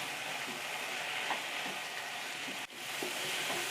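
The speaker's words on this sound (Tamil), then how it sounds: "எல்லாத்தையும் சேர்த்து நல்லா வதக்கிக்கலாம்." Shallots, salt and ginger sautéing in a pan make a dense, continuous sizzle, loud and close, with faint stirring scrapes underneath.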